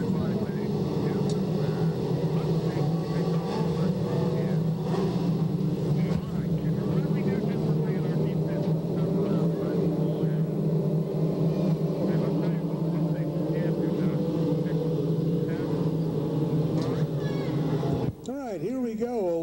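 Steady loud engine drone of dwarf race cars starting a race together at Marysville Raceway Park, a continuous roar with an announcer talking over it throughout.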